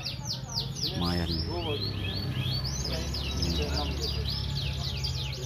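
Many young canaries chirp and tweet rapidly and continuously, bright and close, over a low background hum of a busy bird market in Depok, Solo.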